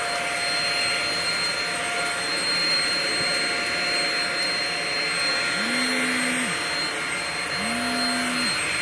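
A Shark Rocket vacuum cleaner runs steadily throughout with a loud, constant broadband whine, and a couple of brief rising-pitch swells appear near the end.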